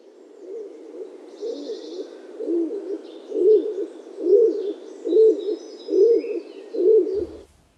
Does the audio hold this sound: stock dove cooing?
yes